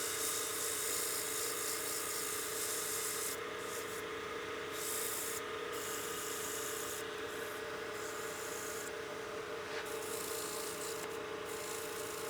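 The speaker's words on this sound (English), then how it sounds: "that's ready to sand now" A continuous abrasive rasp of sandpaper rubbing against spinning wood, steady and close, over a constant machine drone, with brief changes in the grinding texture.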